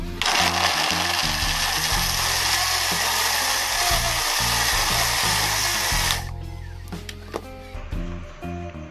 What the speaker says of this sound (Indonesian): Sekarang kita haluskan bumbunya ataupun kita blender.